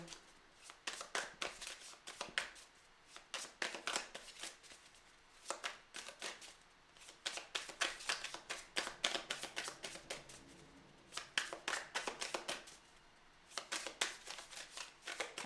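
Oracle cards being shuffled by hand in repeated bursts of rapid riffling and flicking, close and crisp, with short pauses between bursts and a soft voice faintly in the background.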